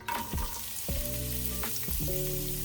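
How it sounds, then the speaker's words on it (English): Onion dropped into a couple of tablespoons of oil in a preheated pan, giving a steady close sizzle with a few sharp clinks and scrapes of a utensil against the pan. "I'm gonna put a couple of tablespoons of oil and put onion."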